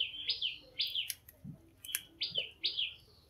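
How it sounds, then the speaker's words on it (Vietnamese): A small songbird sings loudly and close by in a rural Vietnamese countryside garden, giving repeated bright, high chirping phrases in short bursts separated by brief pauses, with no talking. "Chim hót, gà gáy, wow, con chim sâu kế bên nha"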